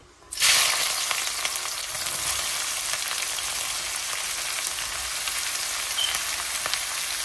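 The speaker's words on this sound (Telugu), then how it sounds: "ఒక ప్యాన్ తీసుకున్నా, అందులో నూనె వేసాను. ఇప్పుడు దొండకాయ ముక్కలు వేస్తాను" Ivy gourd pieces drop into hot oil in a pan and burst into a loud, steady sizzle that holds evenly from just after the start to the end, with no voices.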